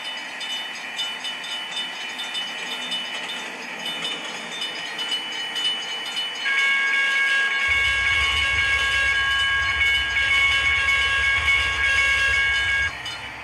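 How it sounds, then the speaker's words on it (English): A train rumbles through a grade crossing in the Trainz railroad game, a steady rolling noise that grows louder and adds a deep low drone and a sustained high warning tone partway through. "right now there's a train at the crossing"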